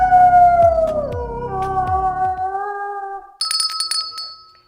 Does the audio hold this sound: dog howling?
yes